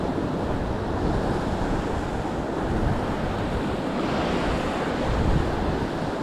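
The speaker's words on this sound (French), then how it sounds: "Par contre, il y a encore de la houle." Sea swell rolling onto a sheltered shore, a steady dense wash of breaking surf mixed with wind buffeting the microphone, continuous and close with no talking.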